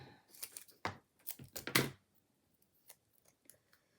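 A few quick snipping cuts with scissors, close and crisp, clustered in the first two seconds, then faint small rustles in near silence.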